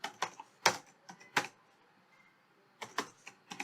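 Computer keyboard keys typed in short bursts of crisp clicks, a quick cluster at the start, a pause, then another run near the end, close and clear with no talking.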